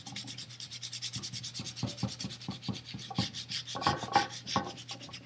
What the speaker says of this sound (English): you find a piece of sandpaper and just do this over the stone